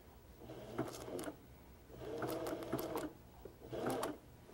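Sewing machine stitching an applique around a curve, running in three short bursts of steady rapid needle clatter separated by brief pauses, close and fairly quiet.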